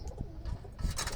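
Pigeons on a pigeon and duck farm give soft, low cooing calls, close by and fairly quiet, with faint rustling and chirpy noises around them.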